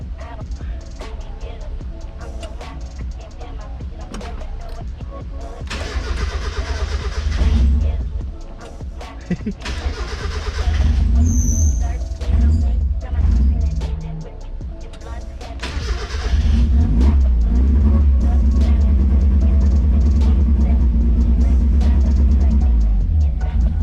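A Mazda Miata engine starting for the first time on Speeduino EFI, with starter cranking bursts, catching into a loud, uneven running idle and then settling into a steady close idle, with people talking over it.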